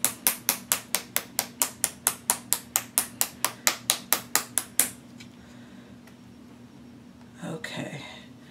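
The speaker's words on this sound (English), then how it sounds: "I'm going to kind of shake this foundation up." A bottle of Clinique Stay Matte oil-free foundation is shaken in a quick, even rhythm of about eighteen sharp rattling knocks, then the sounds stop and a soft rustle follows.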